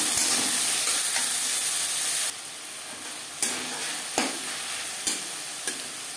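Ginger and green chili paste frying in a pan for a no-onion, no-garlic matar paneer, a steady close sizzle broken by several soft scrapes of a spoon stirring, no voices.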